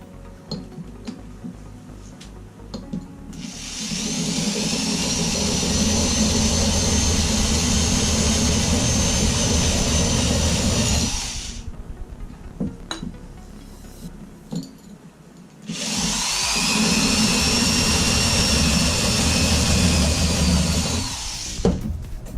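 A power drill whines steadily as it bores through ceramic, stops for a few seconds, then starts grinding again.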